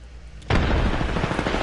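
A frag grenade detonates in Apex Legends with a sudden loud blast that cuts in after a quiet moment, followed by a rumbling, crackling tail of sustained noise.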